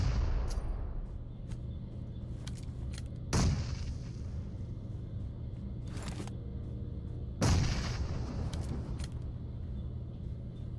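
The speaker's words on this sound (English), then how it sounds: "Throw grenades." Grenade blasts and gunfire in a solo-match shooter video game: two heavy booms several seconds apart over a steady low rumble, with scattered sharper shot-like cracks in between and no voices.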